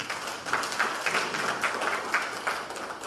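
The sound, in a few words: audience applause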